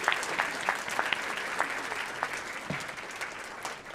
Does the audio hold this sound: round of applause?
yes